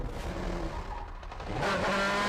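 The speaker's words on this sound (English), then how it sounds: "Schumacher is now fishtailing through the murk, apparently finding grip where no one else can" Formula 1 cars from the 1996 season race on a wet track, an engine roar swelling and falling with hissing tyre spray and a brief skid-like squeal, heard from a distance.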